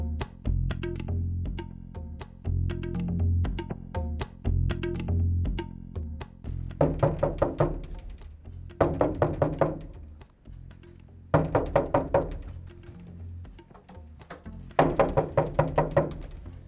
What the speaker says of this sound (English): why are you knocking down my door?